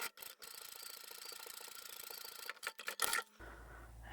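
A home sewing machine stitches the top edge of a fabric key keeper, a steady mechanical whir with a fast rapid pulse, then a few short bursts and stops, close up.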